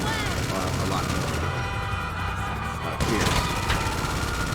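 Rapid cannon fire from a Dewbauchee JB 700W in GTA Online, a dense, loud continuous barrage of booming shots that briefly drops away, then resumes.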